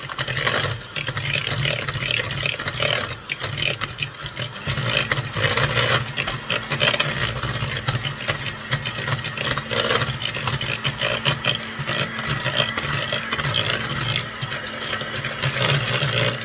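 An electric mixer creams butter and sugar for banana bread, a continuous motor whir with rattling, grinding texture as the beaters work the bowl, loud and close throughout.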